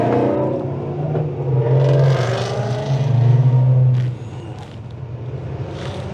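A Ford Mustang with a 5.0 V8 roars past close by, its deep engine note swelling and revving through a couple of surges before fading away into the distance.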